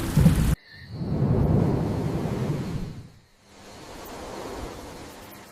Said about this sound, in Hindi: धनीराम बारिश में भीगते हुए दुखी होकर रोता रहता है।